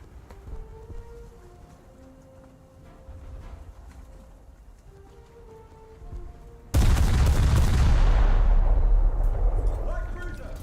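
An 800 kilo bomb strikes a 100 ton battleship in a naval video game, bursting into a sudden loud, broad blast that holds as a roaring rumble for several seconds, following quieter game ambience and faint tones.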